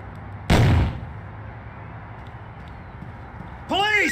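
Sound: breach and bang with gunfire in SWAT 3 video game

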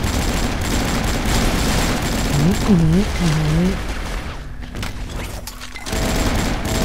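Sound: gunfire in a Thai-language online shooter video game (AvatarStar)

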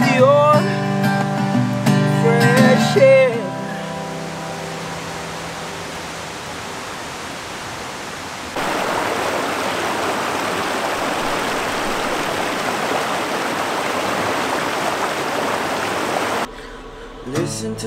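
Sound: river flowing in the woods

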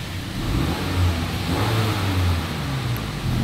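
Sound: car exhaust in original mode

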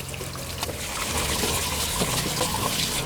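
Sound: rinsing pork spine bones with plain water

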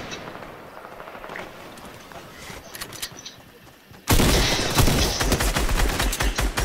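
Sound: gunfire in Fortnite video game

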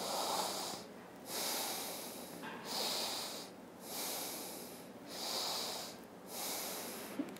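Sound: slow deep breathing in and out during yoga

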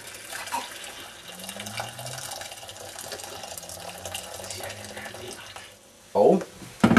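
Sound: boiled water being poured into a pouch

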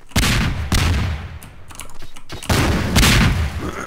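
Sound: grenade explosion in Garry's Mod video game

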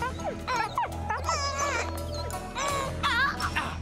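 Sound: dingo barking and whimpering in cartoon

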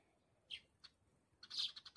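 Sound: birds chirping

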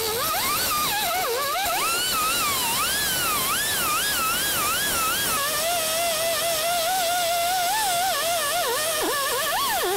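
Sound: grinder grinding down welds on a GMC Yukon rocker panel

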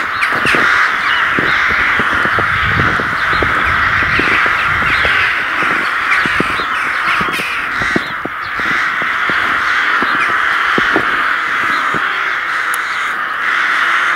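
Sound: birds cawing, pests that peck garden beds

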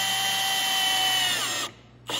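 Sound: power drill driving a screw into wood

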